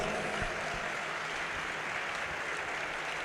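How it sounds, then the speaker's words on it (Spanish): An audience at a Catholic catechesis event in the Archdiocese of Morelia gives steady, even applause that continues at moderate level for the whole stretch, with no voices on top. "Les invito a dar un fuerte aplauso."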